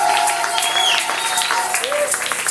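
A church congregation cheers and applauds loudly, with shouting voices rising over a wash of clapping throughout.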